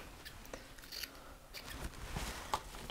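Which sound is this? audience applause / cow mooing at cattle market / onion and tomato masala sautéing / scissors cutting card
scissors cutting card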